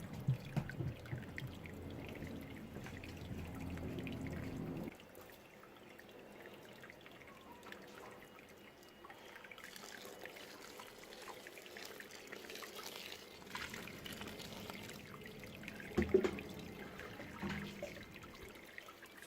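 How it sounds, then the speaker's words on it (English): Water pours and trickles over grains while rinsing them during a beer brewday, a steady running splash, louder at the start and continuing at moderate level without talk. "So let's quickly rinse the grains off,"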